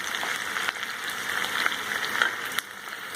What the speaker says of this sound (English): We just need to saute them till light golden in color